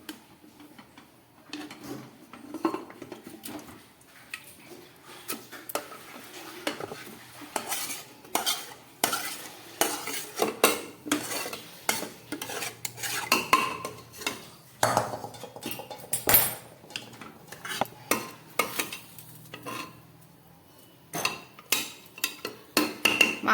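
A pan of mutton curry with well-cooked spices is handled, the meat scraped and transferred into a pressure cooker on a lit gas stove, giving a sustained run of close metallic clinks, scrapes and clatters of utensil against cookware without talk.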